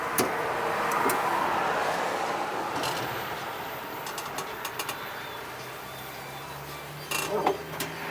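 An electric Skylab three-wheeler (samlor) on a test drive, giving a steady low road rumble and broadband driving noise throughout, with a few brief clicks and rattles near the end.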